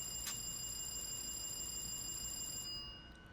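A train door chime rings steadily in Train Sim World 2 on the Harlem Line, a bright sustained electronic tone with a brief ding near the start, cutting off just before the end.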